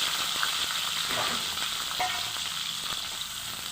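Brinjal pieces with fenugreek seeds sauté in oil for an eggplant gravy, a close continuous sizzle with a couple of light spatula taps and stirring scrapes, no one speaking.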